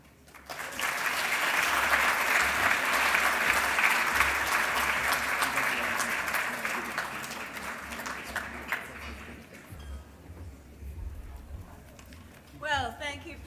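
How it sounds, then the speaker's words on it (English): Loud, dense applause at a research awards ceremony swells and then gradually fades over about ten seconds, and a few louder claps and faint crowd sounds follow at the end. "one more round of applause for all our finalists"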